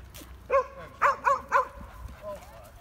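At a dog park, a dog gives four sharp, close barks, a single one followed by a quick run of three, then a faint whine.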